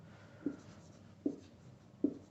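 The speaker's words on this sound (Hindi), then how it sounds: "चलिए इधर लिख देते हैं हम" Pen writing on paper while working a math problem: three faint, short scratching strokes spaced evenly apart, quiet and close, with no talking.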